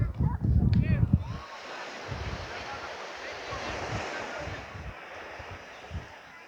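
Ocean surf rolling onto a beach in Guanacaste, Costa Rica, a continuous broad wash of breaking waves with wind buffeting the microphone, and a voice speaking briefly at the start.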